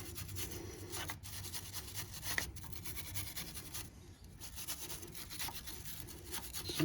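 Seized brake carrier bolts on a Range Rover being cleaned, a steady close scraping and rubbing like a wire brush worked back and forth over metal, continuous for several seconds with brief pauses.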